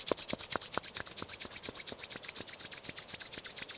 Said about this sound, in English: And start to rub the palms together.